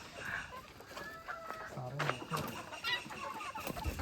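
Chickens at a poultry farm cluck in short, scattered bursts, several birds calling near and fairly quiet over faint background noise.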